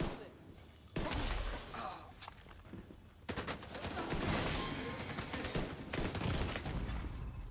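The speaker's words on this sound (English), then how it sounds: "Who's shooting me in the back like that?" Sustained bursts of gunfire in the shooter game The Division 2 rattle continuously at close range, dense and loud, with a voice talking over the action.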